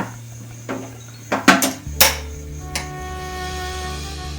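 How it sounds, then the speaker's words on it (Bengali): Cooked kachagolla mixture is tipped onto a metal plate, with a cluster of ringing metallic clanks and scrapes, then a steady low hum underneath. "এবার আমি থালায় নামিয়ে নেব, দিয়ে ঠান্ডা করে পাকাবো।"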